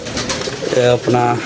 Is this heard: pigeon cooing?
yes